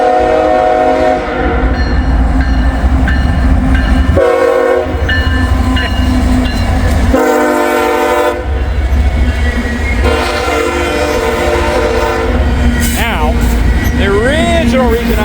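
A CSX freight train rolls past close by, blasting its horn in several long sustained blows over rumbling wheels and rail noise, while someone talks alongside.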